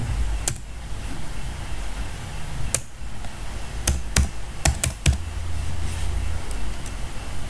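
Keys on a computer keyboard tap out a command in irregular bursts, with several sharp, louder keystrokes standing out over a low steady hum of room noise.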